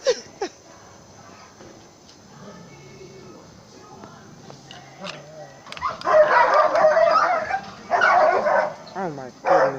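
Several dogs bark and yip in excited bursts near a house, with the loudest barking in the second half, mixed with people talking throughout.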